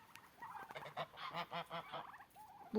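Geese honk in a quick series of loud nasal calls, several birds overlapping at close range, with no talk over them.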